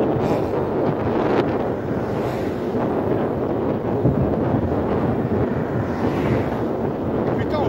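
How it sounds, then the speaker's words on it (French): Steady wind roars and buffets the microphone during an uphill bicycle ride, a constant low rush with no pauses. "Il y a du vent."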